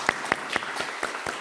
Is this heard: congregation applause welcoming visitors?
yes